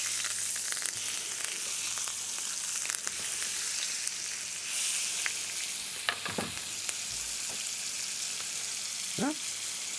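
Steak sears in a pan started cold on temperature-controlled cookware, with garlic and rosemary, giving a steady close sizzle and a few clattering bumps as the meat is turned.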